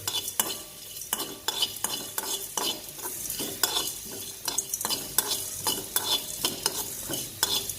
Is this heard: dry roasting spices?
yes